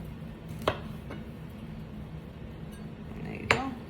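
A small kitchen knife trims the tips off garlic cloves on a board, giving two crisp, close chopping knocks about three seconds apart over a low steady background hum.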